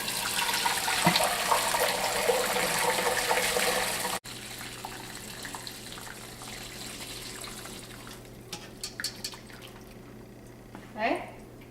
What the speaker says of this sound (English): you're going to start pouring the broth right into here.